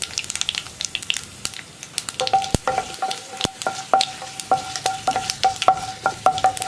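Mustard seeds and dried red chillies fry in hot oil for a spinach and lentil curry. Sharp pops and crackles come in a quick, irregular series over a low sizzle, with occasional scraping stirs in the pan.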